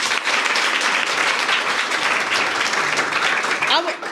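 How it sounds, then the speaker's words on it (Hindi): Applause for a teacher during an online study discussion, a dense burst of clapping that continues throughout, with a voice briefly cutting in near the end. "तालियां बजनी चाहिए।"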